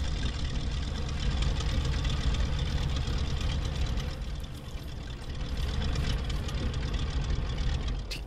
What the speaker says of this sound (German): als wenn der Motor gleich ausgehen würde.